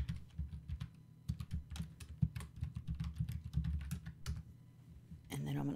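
Rapid clicking keystrokes on a computer keyboard while a name is typed into music mixing software, close and fairly quiet, in uneven bursts with short pauses.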